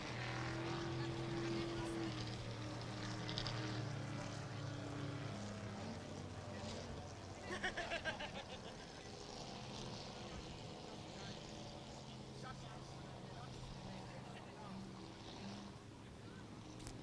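Inboard racing boats roar out on the water, a loud continuous engine drone with shifting pitch filling the whole stretch, with a brief louder burst partway through.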